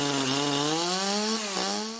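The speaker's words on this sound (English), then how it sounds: "Hear that? That's a brand new Shindawa chainsaw from Hojo Power Sports and Equipment in Shelby." A brand-new Shindaiwa chainsaw runs close by in a steady, loud buzzing whine, its pitch rising slightly and dipping briefly near the end, with no talk over it.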